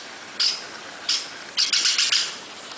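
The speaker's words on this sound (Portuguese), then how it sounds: "o canto de pássaros para muitos de nós, desconhecido" Birds singing in the Amazon rainforest: a handful of bright chirps in separate bursts, the last few closer together, heard alone against a steady background hiss.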